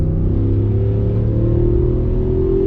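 A 2020 Ford F-250 Tremor accelerating while changing lanes, its engine a loud, steady low rumble with a tone rising gradually as the truck gains speed, heard from inside the cab.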